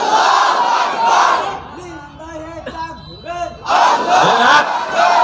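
A crowd at an outdoor Islamic sermon (waz) loudly shouting takbir in unison, two big roaring bursts around a quieter middle stretch.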